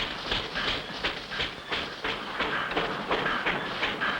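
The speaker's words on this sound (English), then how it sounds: "How do you like this little train, Spinner?" A mountain train rumbles along steadily with rhythmic clacking and broadband noise, fairly close and continuous throughout.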